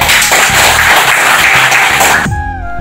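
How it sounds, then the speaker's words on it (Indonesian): Audience applause at the close of a Total Nusantara event, a loud dense wash of clapping that stops abruptly near the end, leaving a brief tonal tail. "Tepuk tangan."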